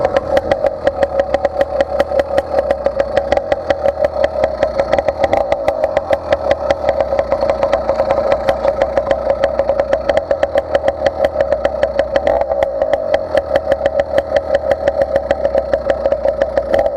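A motorized bicycle engine idles steadily while warming up on its stock intake, a fast even putter running loud and close throughout with no other sounds.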